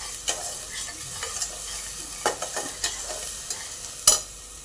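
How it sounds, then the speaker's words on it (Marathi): Turmeric and masala stirred into a ground paste in a pan for horse gram usal, a soft steady sizzle broken by scattered scraping taps of the spoon, close and moderately quiet, no voices. "नंतर थोडीशी आपण हळद टाकून घ्यायची आणि हे चांगलं परतून घ्यायचं आपण."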